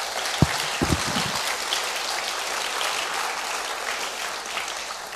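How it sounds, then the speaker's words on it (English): An audience applauds at a charity running fundraising talk, a continuous even patter of clapping in a room, with a few low knocks near the start. "let's give him a round of applause"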